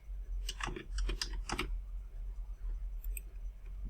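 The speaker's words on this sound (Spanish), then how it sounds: "Entonces aquí escribo Ibagué" Computer keyboard keys clatter in a quick burst of close, crisp clicks while a word is typed into an Excel spreadsheet, then a couple of faint taps after a pause over low room hum.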